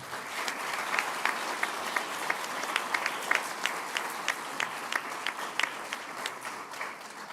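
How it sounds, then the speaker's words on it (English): Steady applause from an audience at an attorney induction ceremony, a dense wash of clapping with sharper individual claps popping through, sustained throughout at moderate loudness. "So please give them a hand of applause."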